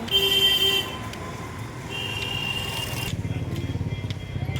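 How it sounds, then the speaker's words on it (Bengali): Traffic on a busy, crowded Kolkata market street rushes past, a steady rumble of engines with a loud horn blast at the start and repeated buzzing tones and pulsing motor noise close by. "দেখো গাড়িগুলো কি জোরে যাচ্ছে।"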